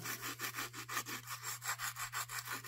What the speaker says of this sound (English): Sand our ground strap and our electrode